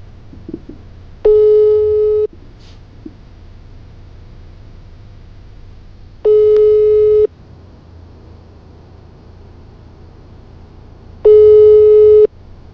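A telephone busy signal sounds in three evenly spaced, steady tones about a second long each, separated by several seconds of quiet line hiss, with no voices.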